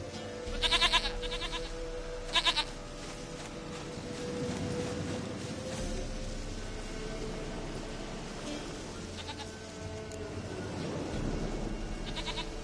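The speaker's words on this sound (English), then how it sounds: "Goat of mine, dearest, sweetest goat." Goat bleats in The Witcher 3, two short bright calls early on against a steady low game ambience with a faint rumble, then a quieter stretch of background hum.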